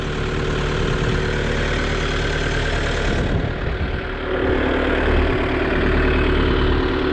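A Kioti RX7030 tractor engine in fourth gear, low range, runs loud and steady nearby in a continuous low rumble, with a brief shift in tone midway.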